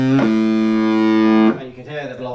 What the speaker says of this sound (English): And you can hear the blocking distortion there, and that's not very pleasant.